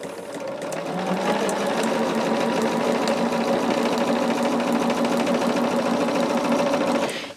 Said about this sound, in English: But we are just going to sew this together.